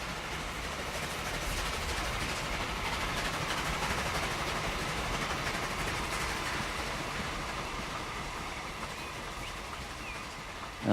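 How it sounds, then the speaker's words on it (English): A train in the Transport Fever video game rumbles past as a steady, dense mechanical drone with a faint engine hum, holding an even level throughout and swelling briefly at the very end, with no talking over it. "Sounds like another train moment's coming up."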